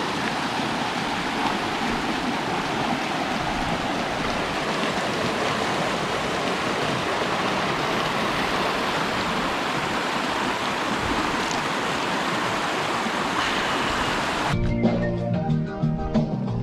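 Fresh drinking water flows in a mountain stream on the Stanley Glacier hike in Kootenay National Park, a steady close rushing and burbling that continues evenly for about fifteen seconds before other sounds take over.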